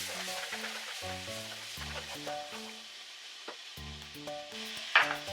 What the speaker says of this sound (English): And then we are going to add our heavy whipping cream.